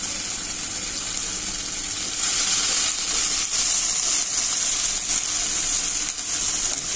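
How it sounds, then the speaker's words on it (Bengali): Water is poured into ground garlic, ginger and cumin paste for biryani cooking on a clay stove, giving a continuous soft gushing hiss for several seconds with no talk. "এখানে একটু হালকা পানি দিচ্ছে"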